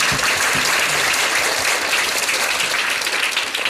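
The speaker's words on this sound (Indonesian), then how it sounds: "Tepuk tangan dulu teman-teman." An audience at a talk in Surabaya claps loudly and continuously, a dense close wash of applause filling the whole stretch with no talk over it.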